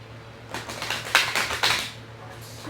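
Tarot cards riffled in several quick shuffles, crisp papery flutters in close bursts alone over a low steady hum.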